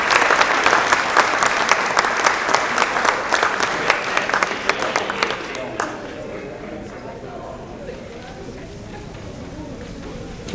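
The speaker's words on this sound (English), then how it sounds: "how about a nice round of applause for our multiple sport athletes" Audience applause at a Wareham High School athletic awards ceremony in 2019, loud dense clapping for about six seconds that then fades into quieter scattered claps and room murmur.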